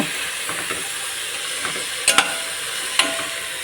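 Okra fries and cooks in a pan, a continuous close sizzle broken by a few sharp clicks of stirring.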